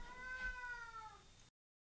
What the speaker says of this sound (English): You guys might hear my cat or cats in the background meowing,